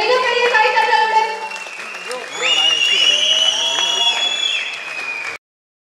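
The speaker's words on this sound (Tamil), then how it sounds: "ஒரு மிகப்பெரிய கைத்தட்டலுடன்" Audience clapping at a film launch event for Deaf Frogs, loud and broad at first, then continuing under a voice speaking over the crowd until an abrupt cut.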